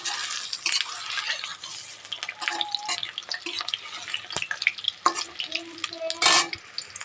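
Bread with egg and capsicum sizzles and crackles in a pan while a utensil scrapes and clinks against it, with intermittent clatter as pieces are turned over.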